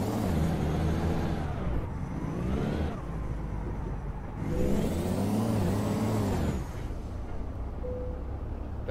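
A Kenworth W900 truck engine in a truck driving game hums steadily with a mid-pitched drone, rising in pitch twice as it revs and pulls away, with no one talking.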